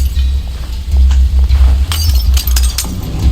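Glass bottles thrown in the video game We Happy Few shatter in several sharp, bright crashes in the second half, over a loud, low rumbling game background.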